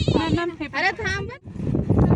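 Sheep on a hillside bleating loudly and close in wavering calls, mixed with people talking nearby.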